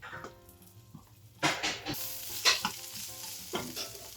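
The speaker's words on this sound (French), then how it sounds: "Notre huile d'olive est bien chaude. Nous allons mettre le chou." Red cabbage hits hot olive oil in a pan, giving a soft crackling sizzle broken by a few sharp clatters and scrapes of stirring, heard up close with no voices.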